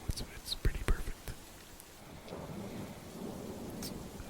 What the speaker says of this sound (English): I hope the rain noises are nice as well